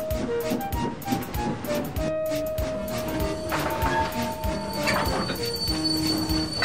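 Train shunting in a yard, with wheels squealing and clanking railcars, steady and moderately close, plus a lingering whistle-like tone and faint background music.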